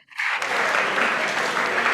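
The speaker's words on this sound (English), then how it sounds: "They are applauding." An audience at a student wing presentation breaks into applause, a sudden, dense and fairly loud burst of many hands clapping that starts abruptly and holds steady, with no voices over it.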